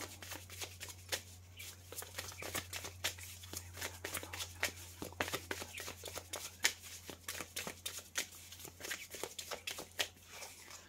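Tarot cards are shuffled and drawn by hand, making a long run of quick, soft flicks and riffles at close range with an irregular rhythm and a faint background hum.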